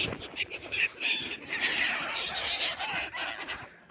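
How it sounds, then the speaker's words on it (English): Seagulls call repeatedly with shrill, high cries, overlapping at moderate distance amid faint outdoor background noise in Golmud, Qinghai, western China. "Look at the seagulls."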